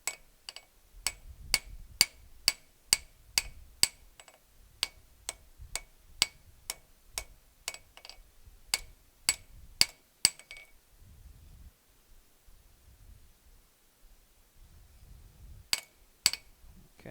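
Hot steel being hammered to a point on an anvil during blacksmith forging, with a steady run of loud, ringing metallic strikes in quick rhythm, a pause, then a couple more blows.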